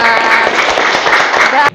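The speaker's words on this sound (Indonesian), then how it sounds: "Tepuk tangan." Short burst of applause and hand clapping from a group in an Indonesian teacher-training classroom session, dense and steady for under two seconds, with voices mixed in, then cutting off abruptly.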